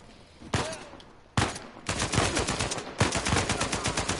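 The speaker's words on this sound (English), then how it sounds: "Oh shit, Sam! Sniper!" Gunfire in the video game Uncharted 4 with sniper shots: two loud single cracks followed by sustained rapid bursts of automatic fire, close and punchy.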